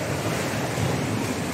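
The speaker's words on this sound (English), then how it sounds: "Yeah, there comes the waves." Rough sea waves breaking on the shore at Ballito and Salt Rock, a loud continuous roar of surf with wind buffeting the microphone.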